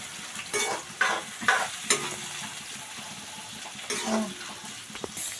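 Chicken and onion frying in a pan while being stirred, with a steady close sizzle broken by several loud scraping stirs and clatters.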